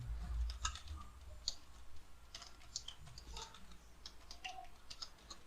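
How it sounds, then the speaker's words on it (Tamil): Light, irregular clicks of typing on a computer keyboard while a trading strategy is set up, soft and fairly close over a low background hum, with no voices. "நான் சும்மா இப்போ டைப் பண்ணுறேன்"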